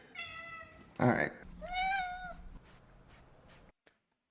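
Two meows from cats at home, clear and fairly close, with a short burst of noise between them. Someone speaks a few words in the background.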